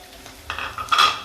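A spoon scrapes and clinks against a pan while an onion-tomato paste is cooked with gram flour for egg masala gravy; brief, close metallic scraping that grows louder at the end.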